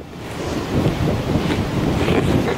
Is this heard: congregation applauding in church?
no